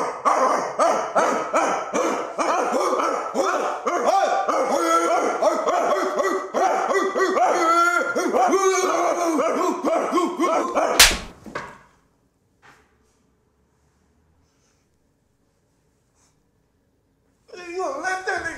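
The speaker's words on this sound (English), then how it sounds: "What are you barking at, bro?" A dog barks amid loud voices and other sounds for about eleven seconds, ending in a sharp burst before near silence, with faint sound returning at the very end.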